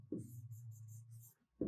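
Pen or marker writing a term on a board during a Tajweed lesson, a short scratchy stroke sequence lasting about a second, quiet and close, with no talk.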